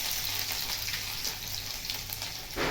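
Mustard seeds, cumin and chopped garlic sizzling in hot oil in a pan, a steady crackling fry with bright spattering, close and fairly quiet, with a soft stir or clatter near the end.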